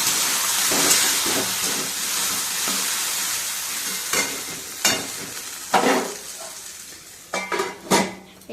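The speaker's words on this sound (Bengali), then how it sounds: "আর এই যেখানে আলু ভাজা হচ্ছে।" Potatoes fry in a pan under a constant close sizzle, broken by several loud clanks and scrapes of a metal spatula against the pan in the second half, with no talk.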